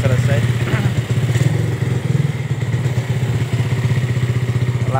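A Yamaha Vega motorcycle engine idles steadily after repair, a close, loud, even low throb with occasional clatter and thumps, while people talk over it.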